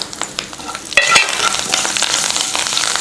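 Fresh coriander leaves are stirred into hot lemon rice in a pan, with scraping and clattering strokes over a soft, continuous sizzle. No one speaks.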